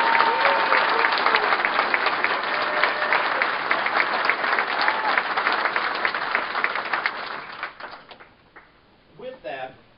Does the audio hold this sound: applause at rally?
yes